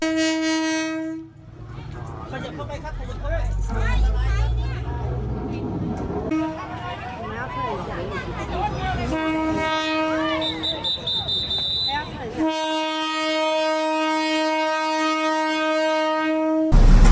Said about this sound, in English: There's a train in Thailand that goes straight through a marketplace.